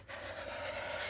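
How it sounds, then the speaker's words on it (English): A quarter-inch strip of tape peels away from paper in a mini album build, a close, quiet, steady rasping tear lasting about a second. "I'm going to pull this 1/4 inch strip off"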